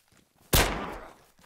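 A single loud gunshot in the video game DayZ, a sharp close crack that decays over about a second, with faint background sounds before and after and no talk.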